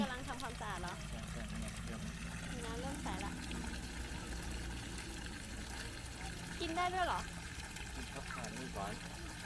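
Water flowing steadily while a fiber water filter tank for a shallow well is being flushed, a continuous trickling wash under someone speaking at close range.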